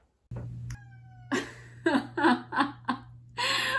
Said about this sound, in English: She just gave like a little meow.